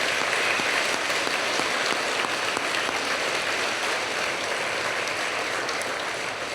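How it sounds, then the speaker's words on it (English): Sustained applause from a large crowd at an alumni awards gala, dense and steady clapping filling the room throughout without pause. "give another round of applause for all of our award winners this evening"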